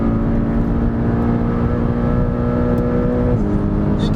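A Porsche 911 Carrera GTS engine drones loud and steady on a race track, holding a constant pitch before a brief shift in tone near the end.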